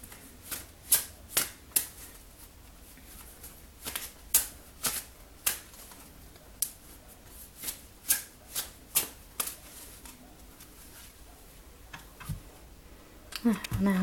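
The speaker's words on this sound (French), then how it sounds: "Donc ce qu'on va faire maintenant, c'est qu'on mélange." Raven's Wand oracle cards are shuffled by hand in a string of crisp riffling bursts, each a quick flurry of card snaps coming at an irregular rhythm, close and clear over a quiet room.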